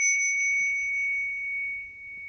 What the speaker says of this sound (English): as you are feeling the sound of this bell